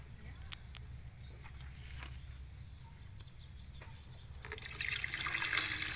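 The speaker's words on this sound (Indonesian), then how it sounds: "Oke, jadi sekarang saya mau tuang dulu airnya." Water poured off black iron sand treated with nitrite, a faint trickle that swells into a steadier, louder pour near the end, heard close up against a quiet background.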